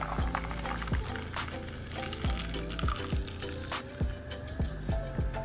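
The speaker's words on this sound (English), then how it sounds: "I add some seltzer to a glass and then top it off with a juice" Tampico Zero Sugar Citrus Punch is poured onto seltzer in a glass, giving a close liquid gurgle with bubbly fizzing and repeated glugging rises, steady and fairly loud, with no talking.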